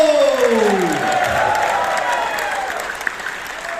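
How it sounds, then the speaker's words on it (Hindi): A large crowd applauds and cheers at a motivational talk, loud sustained clapping with shouted voices rising over it early on, then settling into a steady roar that slowly eases. "अपने लिए भी ताली जबरदस्त बजा सकते हैं।"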